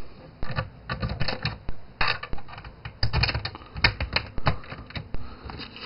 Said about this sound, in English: So drop all the long screws in.